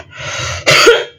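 A single harsh, loud cough, close up and on its own, preceded by a short breathy throat sound.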